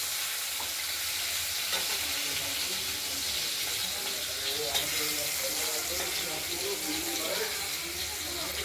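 Potatoes sizzle in hot oil with a steady, close crackle, broken by the faint scrape and stir of a spatula in the pan.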